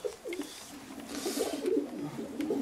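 Pigeons coo in a low, throaty, repeated rhythm, fairly close and steady throughout, with faint chirps and background noise behind them.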